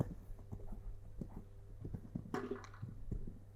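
A horse's hooves thud rhythmically on an arena surface during a show-jumping exercise, faint and somewhat distant, with a louder scuffling burst partway through.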